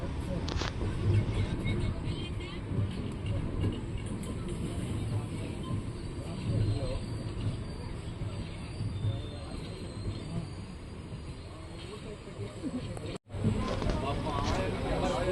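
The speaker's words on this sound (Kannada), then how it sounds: "ಬೆಂಗಳೂರು ಕಂಟೋನ್ಮೆಂಟಿಂದ ನಮ್ಮ ಟ್ರೈನು ಹೊರಟಿದೆ." The Karnataka Express pulling out of Bangalore Cantonment station gives a continuous rolling rumble of coaches and wheels on rails, heard from inside the train with busy background noise, and a brief dropout near the end.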